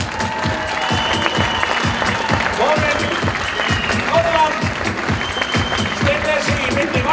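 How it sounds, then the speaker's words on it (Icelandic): An audience at an event in Steinnes claps in a steady, sustained round of applause, with a voice talking over it throughout. "Við skulum gefa þér gott klapp."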